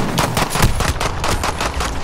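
Rapid pistol gunfire in the first-person shooter Call of Duty: Modern Warfare, a fast, steady string of close, sharp shots repeating for about two seconds with no talk.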